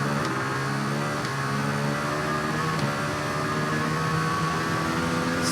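Norton motorcycle engine in the TT Isle of Man racing game, a steady loud buzzing drone held at high revs throughout, with no talk.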